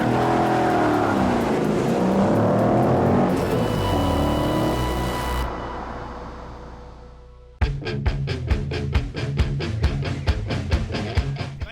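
A drag race car revs hard at launch RPM on a Southern California drag strip, a loud sustained engine roar that fades, then a sharp restart into a rapid, evenly pulsing rev, close and alone.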